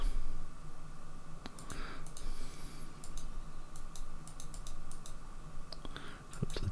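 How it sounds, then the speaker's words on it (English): A computer mouse is left-clicked while drawing trees in Photoshop, giving sparse, faint, sharp clicks scattered irregularly over a steady low background hum. "I'm just left clicking."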